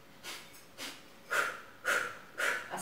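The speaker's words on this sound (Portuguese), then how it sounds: "a gente vai intercalar a respiração do Fo, que é aquela respiração curtinha" Breath of fire during yoga stretches, five short, sharp nasal exhalations spaced roughly half a second apart, close and growing slightly stronger toward the end, with no talking.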